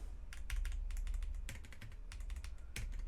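Typing on a Cidoo V65 V2 mechanical keyboard fitted with tactile V2 switches and CA keycaps, a quiet, irregular series of crisp keystroke clicks with soft bursts, close and alone.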